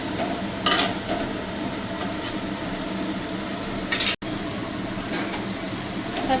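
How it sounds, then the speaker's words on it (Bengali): Spice masala with bay leaf sautés in oil in a pan, giving a steady soft sizzle with a few brief scraping strokes of stirring, close and moderately quiet. "আর মশলাটাকে আমি একটু ভালো করে কষিয়ে নেব"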